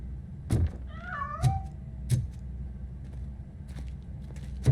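A cat meows in RoboCop: Rogue City, a short rising and falling cry standing alone between a few dull thuds of footsteps or impacts in a quiet game scene.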